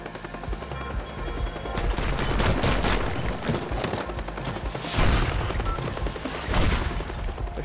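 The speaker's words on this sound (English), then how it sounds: "They're shooting." Gunfire in a video game: rapid, machine-gun-like bursts and heavy booms roll on for several seconds, loud and close, with a couple of stronger blasts near the end and no speech.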